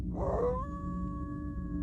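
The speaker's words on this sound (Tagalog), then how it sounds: "gabi-gabi nang umaalulong ang ginagalis na aso ni Carding." A mangy dog howls at night, a single drawn-out, wavering cry that rises and then holds steady, close and fairly quiet, with no voices.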